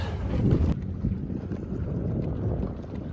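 Wind buffets a sailboat off the Seattle coastline, a continuous rushing roar over the microphone, loudest at first and then a steady low blustery rumble, with no voices.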